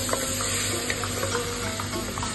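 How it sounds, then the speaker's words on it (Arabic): Lentils, potatoes and garlic being stirred and sautéed in a pot make a steady soft sizzle with faint scraping and clinks of stirring, close by and continuous with no voices. "وشوحت وخلطت العدس مع الخضرة هذه كلها"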